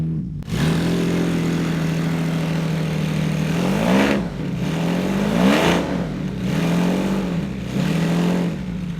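A Lamborghini V12 motorcycle engine idles with a deep steady note, then revs up in several sharp blips, each rising and falling back, close by.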